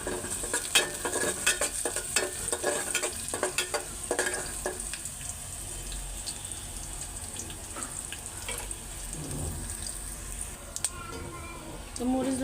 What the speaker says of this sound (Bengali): তো মরিচ রসুন লাল করে ফেলছি,